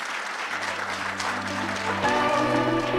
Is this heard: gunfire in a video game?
no